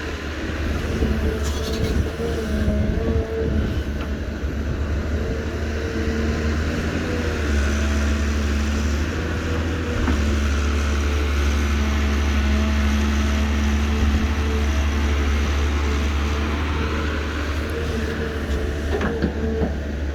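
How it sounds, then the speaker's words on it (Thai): XCMG XE215C excavator with an Isuzu 6BG1 direct-injection diesel engine running nearby, a loud steady low rumble and drone with a constant engine hum throughout, no talking. "เอาเอาให้ดูแมคโคร ค่ายใหม่ แบรนด์ใหม่จาก ประเทศจีนนะครับ"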